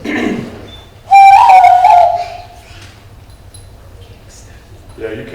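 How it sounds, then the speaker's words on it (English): A person whistles through cupped hands, giving one loud, steady, sustained tone of about a second, with talk before and after. "When I was a kid, we all learned to whistle with our hands like this."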